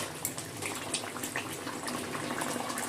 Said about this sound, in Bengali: দিয়ে গরম মশলা আর ধনে পাতাটা দিয়ে একটু ফুটিয়ে নেব